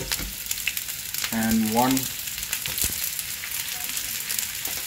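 Sliced red and white onions sauté in a pan, a steady close sizzle with light stirring scrapes running throughout, while a voice briefly speaks over it.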